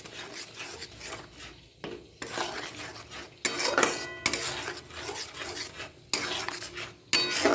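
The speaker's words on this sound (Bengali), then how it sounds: "আবার নেড়ে নেব।" A utensil stirs and scrapes mashed split pea paste in a pan in close, irregular bursts of rasping strokes separated by brief pauses, with no talking.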